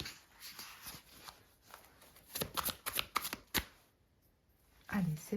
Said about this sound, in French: Allez, on pose les 3 cartes du tarot.